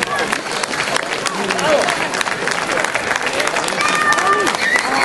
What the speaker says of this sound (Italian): andiamo a ricevere l'ultimo applauso